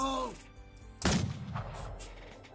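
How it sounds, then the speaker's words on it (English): A single sharp, booming gunshot in a video game cracks out loudly after a brief tone, followed by a rumbling echo that fades slowly. "A gunshot! Two gunshots!"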